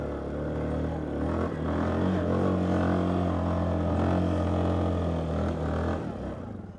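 A Yamaha Kodiak 450 ATV with a high-compression piston accelerates in high range on a packed snowmobile trail, its engine droning steadily and rising in pitch, moderately loud and close throughout.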